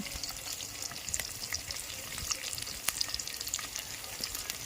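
Chopped tomatoes frying in a pan for a village-style chicken curry give a steady, close sizzle, with scattered small pops and light stirring scrapes.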